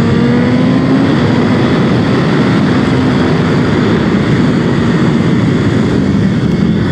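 A loud, steady four-cylinder engine roar from a 2021 BMW M 1000 RR superbike, holding at high revs without a break, dense and close.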